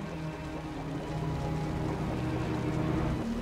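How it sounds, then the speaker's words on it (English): Heavy rain falls in the video game Wuthering Waves as a steady, dense hiss of drops, even and continuous with a low rumble underneath and no talking. "The rain's getting heavier."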